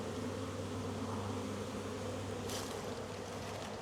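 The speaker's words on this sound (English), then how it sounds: "The sun comes out and these bees go nuts." A honeybee hive in sunshine gives off a steady, dense buzzing of many bees carrying pollen in, continuous and fairly quiet, with a faint breathy gust partway through.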